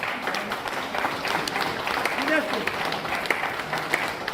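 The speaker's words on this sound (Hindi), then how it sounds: "ये जोरदार तालियां" Loud applause from an audience at an IMC business program in Bargarh, Odisha, a continuous wash of clapping with some crowd voices mixed in.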